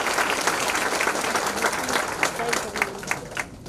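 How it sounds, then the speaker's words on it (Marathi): An audience at a convocation ceremony bursts into strong, sustained applause for successful students, a thick wash of clapping filling the room with a voice faintly audible through it. "सर्व यशस्वी विद्यार्थ्यांचे जोरात टाळ्या वाजवून स्वागत करायचंय"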